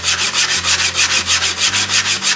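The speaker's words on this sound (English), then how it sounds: "now we have a sanding board and we're going to finish it off" A shaped wood piece for a caboose restoration is worked over with a sanding board in steady back-and-forth strokes, a rhythmic close-up rasping about four passes per second, with a low hum underneath.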